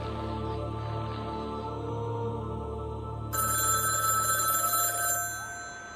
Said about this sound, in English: the phone ringing on your desk